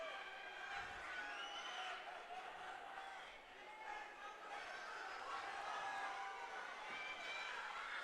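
Crowd roaring and cheering through a combat sports fight night, a dense, steady wall of voices that swells and stays loud throughout, with commentators talking over it.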